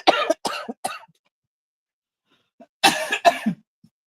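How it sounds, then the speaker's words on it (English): Several harsh, close coughs after choking on soda, first a quick burst of three and then, after a silent pause, two more heavy coughs. "I'm sorry if I coughed directly in your ear."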